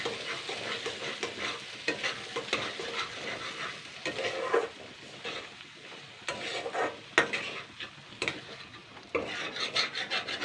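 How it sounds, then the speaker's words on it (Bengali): A spatula scrapes and stirs chopped green tomato with duck egg in a frying pan, rhythmic rasping strokes over a soft sizzle, close up with no voices. "এবার আমি এর সঙ্গে ভালো করে নাড়াচাড়া করে নেবো ডিমটার সাথে"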